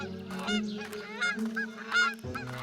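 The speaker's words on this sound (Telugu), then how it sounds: "బాతుల్ని మేపడం ప్రారంభించింది" A flock of large geese in a grassy meadow honk repeatedly in quick, overlapping calls, close and clear with no voices among them.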